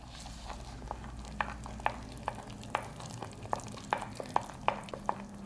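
Arrowroot starch being stirred into a citrus deodorant mixture in a bowl, a steady run of soft, evenly spaced scraping ticks over a faint background hum, with no talking.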